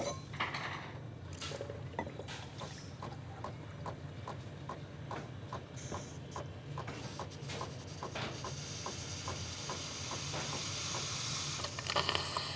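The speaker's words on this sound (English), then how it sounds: "I'm just going to heat up my steam wand on the Barista Pro" Breville Barista Pro espresso machine purging its steam wand, a steady hiss with a rapid rhythmic pumping tick underneath, continuous and close.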